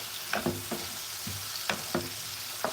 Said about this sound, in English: Put your vegetables on top like this. You stir.